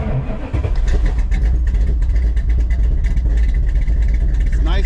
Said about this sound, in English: It's nice hearing the exhaust behind me and not in front of me.